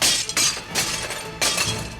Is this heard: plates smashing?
yes